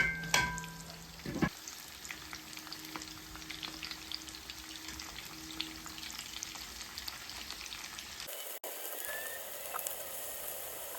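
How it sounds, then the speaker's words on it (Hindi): Chicken tikka with masala frying in a pan, a continuous quiet sizzle with occasional crackles and brief utensil knocks, no talk. "जब नीचे से थोड़ा सा फ्राई हो तो फिर इसको हिला के टर्न करना है"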